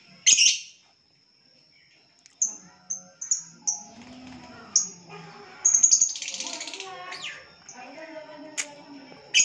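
Small caged birds chirp in short bright bursts and sporadic tweets, close by, while people talk quietly underneath.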